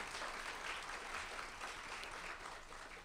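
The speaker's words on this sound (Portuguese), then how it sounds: "palmas para ele." An audience at a literary lecture series gives sustained, even applause throughout, moderately loud and continuous with no voices on top.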